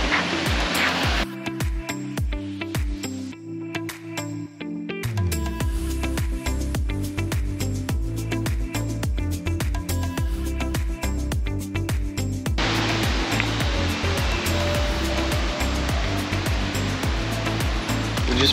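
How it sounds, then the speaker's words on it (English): Waterfall and river in the El Yunque jungle of Puerto Rico, a loud, steady rush of falling water close by with brief tapping knocks over it. "some kind of falls and a river thing"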